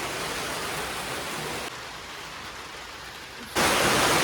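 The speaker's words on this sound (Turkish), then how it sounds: "Şu an yağmur yağıyor." Rain falls as a steady, hissing wash of noise. It dips quieter midway, then swells louder again near the end, with no voices.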